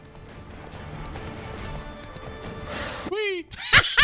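A galloping horse from The Witcher 3 video game thuds along under rumbling movement, then a whinny and sharp high cries break in near the end.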